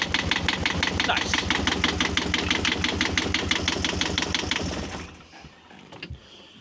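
A Yanmar 2GM20 marine diesel boat engine runs with a steady, rapid knocking beat, loud and close, then is shut down and winds off near the end, leaving a few faint clunks.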